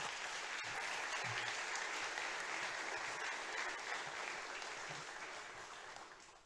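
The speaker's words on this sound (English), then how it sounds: "Please give him a big round of applause." A crowd gives a big, dense round of applause for an author at a book event. The clapping is sustained and even, then gradually tapers off at the end.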